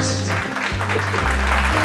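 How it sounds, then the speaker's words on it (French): An audience claps in a room, a dense steady patter of many hands throughout, with a low hum underneath. "On peut applaudir quand même"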